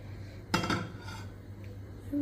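A metal pot clanks down once on a hard surface, a sharp clatter followed by a brief ringing in a quiet room.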